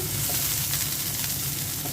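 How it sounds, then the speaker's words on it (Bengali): Steady crackling sizzle of onion and green chili frying in hot oil in a frying pan, close up and continuous, with no voices. "পেঁয়াজ আর কাঁচামরিচ দিয়ে দিয়েছি"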